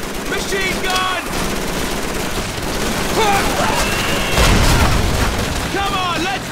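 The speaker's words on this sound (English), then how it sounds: "Machine gun!" Call of Duty 3 battle with rapid bursts of machine gun fire and scattered gunshots, plus a heavy boom partway through. Soldiers shout orders over the firing.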